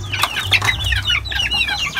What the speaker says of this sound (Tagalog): Ayan, maraming manok yung pinsan ko.